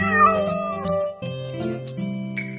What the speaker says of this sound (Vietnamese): Trông chú mèo con nghịch ngợm kìa.